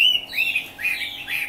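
Caged hwamei and other songbirds for sale sing in a run of clear, repeated whistled phrases, bright and close, with no talking.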